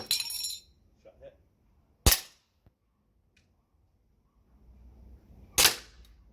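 SG09-R pistol shots in the video game Resident Evil 4, two sharp, loud cracks several seconds apart over a quiet background, with a brief burst of sound at the start.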